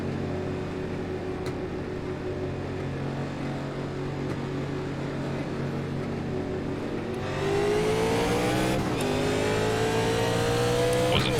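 Engines of 1987 NASCAR Legends race cars in iRacing at Indianapolis Raceway Park hold a steady droning idle under pace, then swell louder and climb in pitch as they accelerate at the green flag start.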